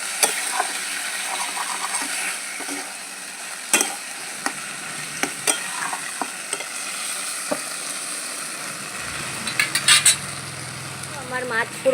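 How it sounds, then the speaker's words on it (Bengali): Singi fish fry in hot oil in a pan while being stirred, producing a continuous close sizzle broken by sharp scraping clicks and knocks of the utensil against the pan. "আমি মাছগুলো সব দিয়ে দিয়েছি তেলে। এখন আমি ভালো করে আস্তে আস্তে 2-4 মিনিট মাছটাকে কষে নেব"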